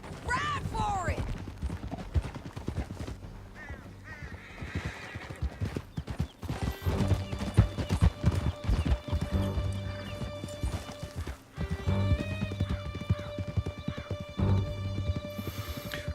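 Horses galloping with rhythmic clip-clop hooves in Red Dead Redemption 2, interrupted by whinnies and a few sharp shots, with voices speaking over the ride.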